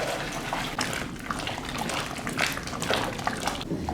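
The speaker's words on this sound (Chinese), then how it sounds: "稀的烧开以后，把稠的慢慢一边倒一边搅。" Thick starch batter poured into a pot of boiling thin batter while being stirred, making Shaanbei-style handmade liangfen; a steady close liquid gush and sloshing with scraping stir noises, continuous throughout.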